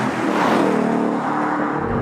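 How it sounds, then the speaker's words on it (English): A Ford Mustang Mach 1 V8 engine revs under load through a gear change, a continuous loud, close rumbling drone that swells and dips slightly without any talk over it. "it just makes that whole experience of changing gear and listening to that engine so much more enjoyable"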